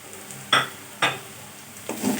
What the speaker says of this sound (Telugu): మనం తీసుకున్న పసుపు, ఉప్పు, కారం, చాట్ మసాలా, జీరా పౌడర్, గరం మసాలా అన్నీ వేసుకుని బాగా మసాలాలంతా ఫ్రై అయ్యే వరకు ఫ్రై చేసుకోవాలి